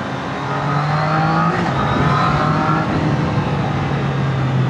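A Triumph Daytona 660 motorcycle on a test ride gives a loud, steady engine drone with a slight rise in pitch, heard close and continuous with no talk.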